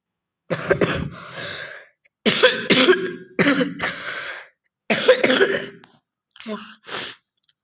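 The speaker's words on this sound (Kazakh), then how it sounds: "Жөтеліп қалдым." Several bursts of harsh, close coughing, grouped in fits of two or three with short pauses between, ending in two shorter coughs.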